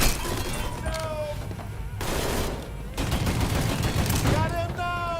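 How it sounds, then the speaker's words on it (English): Bursts of gunfire crack through a Mafia III shootout, rapid automatic volleys clustered around shouted voices, with loud repeated shots filling most of the moment. "Shoot them from the center!"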